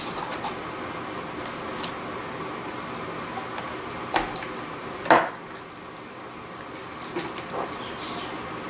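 A raw duck leg being cut along the spine and thigh joint with a knife or shears, quiet close-up snips and crunches with one sharper crack midway over a faint background hiss.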